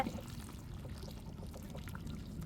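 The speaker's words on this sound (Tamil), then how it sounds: "வெந்நீரை ஊற்றி வைப்போங்க" Hot water is poured over prawns for prawn biryani, a soft, continuous low pour that stays faint and unbroken for a couple of seconds.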